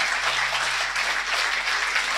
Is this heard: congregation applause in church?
yes